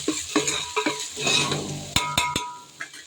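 Biryani masala for mutton biryani is stirred and sautéed in a pan, giving a soft sizzle under repeated scraping strokes, then several sharp metallic taps of a spoon on the pan rim near the end.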